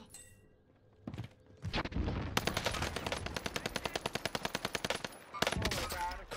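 Rapid automatic gunfire in an online shooter video game, a fast, even burst of loud close shots lasting about three seconds, with single heavy shots and scuffling before and after.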